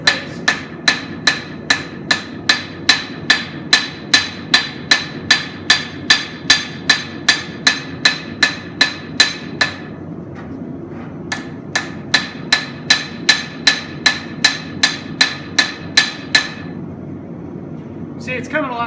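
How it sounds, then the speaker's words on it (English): Hammer forging a knife blade on an anvil by hand, heard as a long run of loud, evenly spaced ringing metal strikes close by, with a brief pause midway before the steady rhythm resumes. "Make sure that anvil face is clean, because you do not want to pound the scale into the face."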